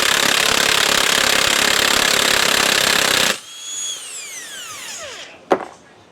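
Loud, continuous rattling hammer of an impact tool on a Ford Explorer axle nut for about three seconds, then it cuts off into a winding-down whine and a single sharp knock.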